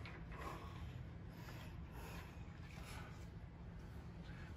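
A ratchet tightens a cap screw on a transmission servo pan, a faint, rapid run of mechanical clicking close by over a steady low background rumble.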